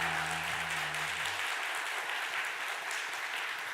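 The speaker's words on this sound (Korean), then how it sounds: "우리 한번 환영의 박수 힘차게 하겠습니다" A church congregation claps in welcome during a Sunday worship service, a dense, steady wash of applause filling the room. A low tone at the start fades under it after about a second and a half.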